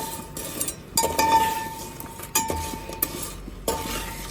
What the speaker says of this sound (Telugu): బెల్లం కరిగే వరకు స్లోగా తిప్పుకోవాలి